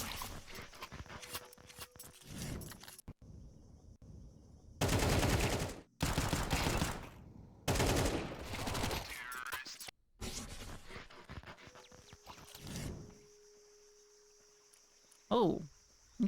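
Rapid bursts of auto shotgun fire in a competitive Counter-Strike match, loud and repeated in clusters with short gaps between volleys, mixed with other game effects.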